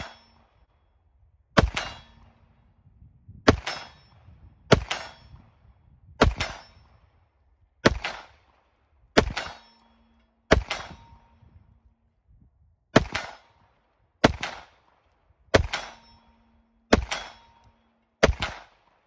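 Twelve evenly spaced CZ 75 TS Czech Mate pistol shots ring out outdoors, each followed by a sharp metallic clang of a steel plate struck at about 85 to 90 feet, with quiet pauses between.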